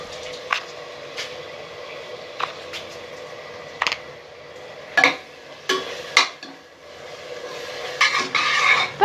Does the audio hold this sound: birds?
no